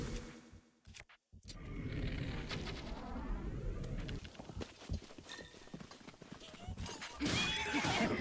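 In Zelda: Breath of the Wild, a horse neighs loudly after being hit, a whinny among clopping hooves and game effects, with a brief gap of silence near the start.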